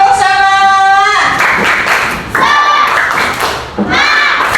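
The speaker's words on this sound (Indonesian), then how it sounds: "Oke, tepuk semangat." A group performs a rhythmic spirit clap at the close of a coding and artificial intelligence training session, with loud patterned clapping and thumps that break into bursts, amid children's voices and chatter.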